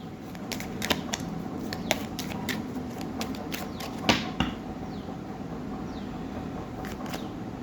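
Tarot cards drawn from a deck, with soft irregular flicks, slides and taps close up against a quiet background hiss.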